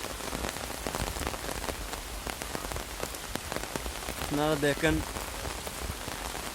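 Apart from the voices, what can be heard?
rain falling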